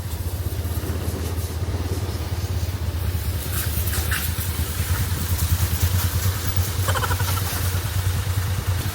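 A motorcycle engine runs steadily while being ridden in the Philippines, a constant mid-pitched drone with some clatter and road noise throughout, fairly close and with no talking.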